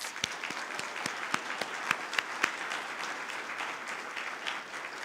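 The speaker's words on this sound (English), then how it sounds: "Let's give them a round of applause." Applause from the audience at a college commencement ceremony, a steady wash of many hands clapping with a few sharper nearby claps standing out early, then fading slightly toward the end.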